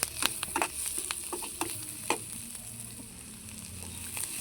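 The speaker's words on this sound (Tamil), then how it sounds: "அந்த வெங்காயம், முருங்கைக்கீரை, பச்சை மிளகாலாம் சேர்த்து நல்லா வதக்கிடுவோம்" Drumstick leaves, onion and green chillies sautéing in a pan, with a soft steady sizzle and repeated sharp scrapes and taps of a spatula stirring, close by and moderately loud.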